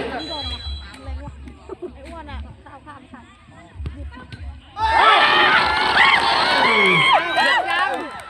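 Spectators at a 7-a-side football match burst into loud, sustained cheering and shouting about halfway through, rising from quieter background murmur into a dense roar that holds to the end.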